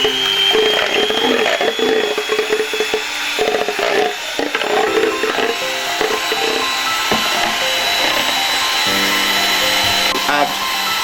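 Eggs beaten for carrot cake batter with an electric hand mixer, a steady loud motor whine with a rattling beater texture running throughout, shifting in pitch as it works.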